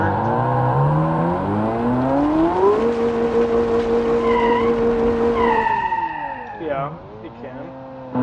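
A 1300-horsepower rear-wheel-drive car in the BeamNG driving game revs and holds a loud, steady engine drone on sand or dirt, with pitch rising then dipping near the end as the throttle eases.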